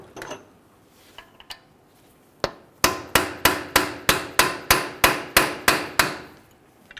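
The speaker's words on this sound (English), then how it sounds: "Hit it with a soft face hammer." A couple of scattered taps, then about a dozen sharp, evenly spaced soft-face hammer blows on a 2003-2008 Honda Pilot front CV axle shaft ring out close by, each with a short metallic decay.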